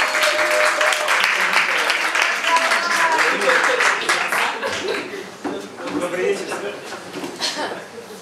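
Audience applause greets performer Rinat Mirgazov at a bar show, scattered and fairly close, rising and thinning over several seconds while voices and a few chuckles mix in.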